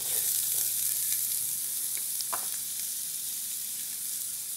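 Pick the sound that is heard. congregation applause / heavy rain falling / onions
onions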